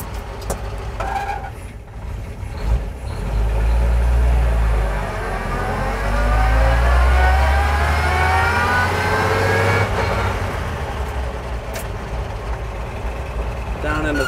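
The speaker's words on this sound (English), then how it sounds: "showing you a 46 Chevy pickup" A 1946 Chevrolet half-ton pickup with a three-speed gearbox, its engine giving a low rumbling drone that rises and falls through revs while driving, with someone talking over it.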